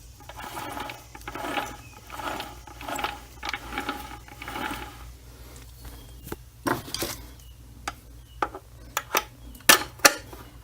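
A worn gear in a Mini Getrag 5-speed transmission grinding and whirring in rough, uneven pulses, followed by sharp clicks and knocks, close up with no talking.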